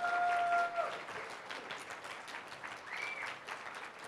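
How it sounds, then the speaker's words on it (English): An audience at a university event applauds for the tech crew, a steady spread of clapping at moderate volume with a brief tone in the background. "Let's hear a round of applause to all the tech people that made this happen"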